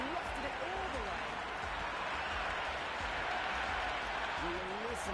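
A roaring stadium crowd cheers in the cricket video game Cricket 26 during an India versus South Africa T20 warm-up in Mumbai, a dense continuous wash of noise with a commentator talking over it.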